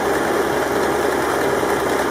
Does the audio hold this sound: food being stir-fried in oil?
no